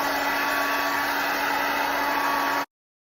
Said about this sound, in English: you're just going to go in with your blow dryer and let it dry.